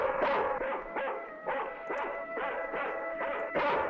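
A dog in an old science-fiction film barks repeatedly in a steady rhythm, roughly eight yaps over a few seconds, mid-distance with a slightly muffled soundtrack quality.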